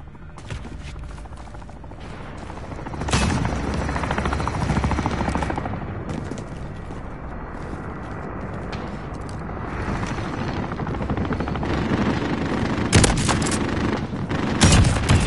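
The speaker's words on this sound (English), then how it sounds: "Enemy helo inbound." Helicopter rotor drone in the Warzone video game, building steadily under bursts of distant gunfire and sharp loud shots, with no talk.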